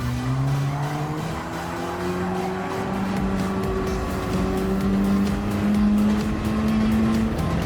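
Hyundai Elantra N engine in Gran Turismo 7 running at full throttle through a time-trial corner, a loud, steady droning exhaust note rising in pitch as it accelerates, with faint tire scrub underneath and no talk.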